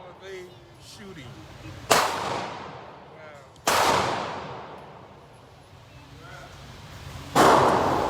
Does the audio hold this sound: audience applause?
no